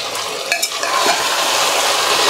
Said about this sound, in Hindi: चिकन डालने के बाद हम 4 से 5 मिनट मीडियम फ्लेम में चिकन को अच्छे से पहले भून लेंगे